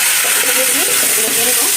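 Potatoes and beans go into a hot pan with fried onions and hit the oil with a loud, close, steady sizzling hiss that fills the short moment without pause.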